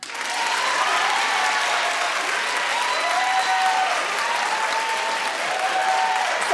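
An audience claps loudly and steadily for several seconds. Scattered cheers and whoops rise above the dense, continuous applause.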